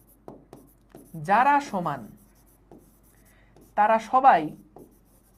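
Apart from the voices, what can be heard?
writing on a board during a physics lecture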